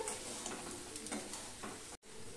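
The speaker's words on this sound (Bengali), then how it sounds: "নুনটা দিয়ে ভালো করে আমি মিশিয়ে নিচ্ছি সমস্ত কুলের গায়ে, যাতে নুন হলুদটা লেগে যায়।" Jujubes being stirred in a pan with salt and turmeric over a very low gas flame for a Bengali pickle, giving a steady soft scraping and faint sizzle with a brief dropout near the end.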